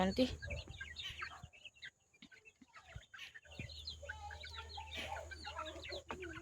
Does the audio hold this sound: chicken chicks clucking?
yes